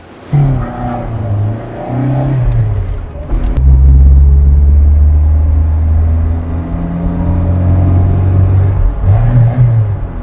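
A Tofaş Şahin car engine revs up and holds a loud, rumbling drone, easing off briefly before revving again near the end.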